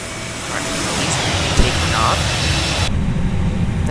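In the X-Plane 11 flight simulator, a jet takes off at Heathrow with a loud, steady engine roar that fills the clip, broken by one brief thump.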